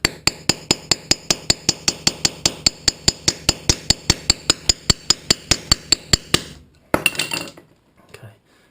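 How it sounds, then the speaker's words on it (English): Rivets are forced out of a pocketbike chain without the proper tool: a rapid, even run of about thirty sharp metallic taps close by, followed by a brief scrape and a few scattered clinks. "Just want to get in between the rivets and apply some pressure to ideally just make them pop out."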